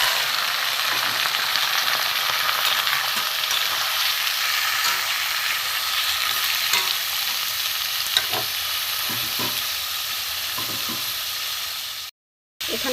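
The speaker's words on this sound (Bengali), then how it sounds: "এখানে আমি চাল কুমড়োগুলো কাটা আকারে দিই" Chopped ash gourd fries in a pan with tempered spices, giving a steady close sizzle and hiss with occasional stirring scrapes throughout; no voices are heard.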